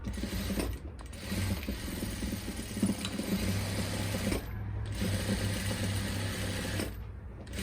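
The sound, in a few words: sewing machine stitching a salwar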